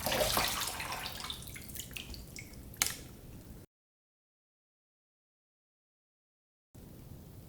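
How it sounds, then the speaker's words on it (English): Trumpet valves and parts are rinsed under running tap water, a steady hissing splash with a few knocks of metal before it cuts off, then the water resumes briefly. "give it a quick little rinse."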